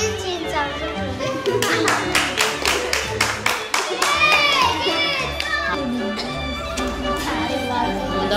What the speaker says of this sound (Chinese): 来宾请掌声鼓励